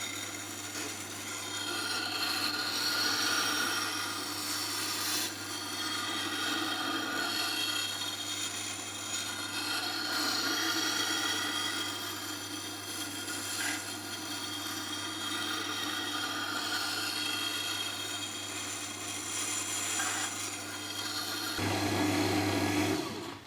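A wet stone sharpening machine grinds a bowl gouge in a workshop, giving a continuous soft rasping scrape over a steady low motor hum, with a clunk near the end as the tone shifts.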